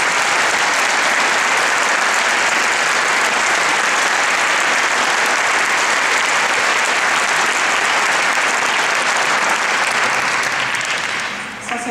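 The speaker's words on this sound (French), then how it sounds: "Je vous propose de les applaudir aussi." Sustained, dense applause from an audience at an art exhibition opening in La Chaux-de-Fonds fills the space loudly and evenly, easing off only slightly in the final moment.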